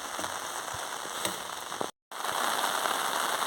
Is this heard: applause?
no